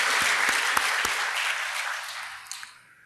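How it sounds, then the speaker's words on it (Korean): A Korean church congregation at a revival service claps for the young people, a dense burst of many hands with a few sharp individual claps that thins and fades out within about three seconds. "우리 한번 박수로 격려하고 축복합시다"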